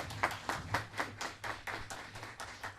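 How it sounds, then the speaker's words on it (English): An audience claps at an outdoor school bicycle giveaway, a faint, evenly spaced run of individual claps at a steady rhythm, fairly distant, with no talking over it. "Sharon, give Sharon a round of applause."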